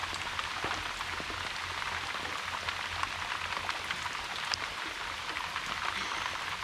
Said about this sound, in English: It's an absolute downpour out here.